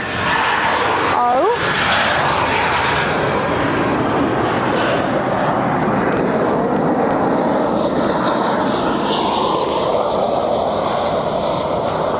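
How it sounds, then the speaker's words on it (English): An Air France Embraer 190 from Charles de Gaulle arrives at Barcelona on runway 24R, its engines giving a loud, sustained roar that holds steady throughout, with a voice talking over it. "Right now, Air France from Charles de Gaulle on the 190."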